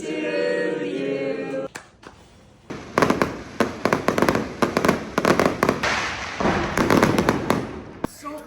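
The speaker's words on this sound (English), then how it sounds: "You didn't tell us about the surprise fireworks you arranged." Surprise fireworks at a birthday party in Chiang Mai, Thailand, burst in a dense run of loud cracks and pops after a sung birthday tune fades out.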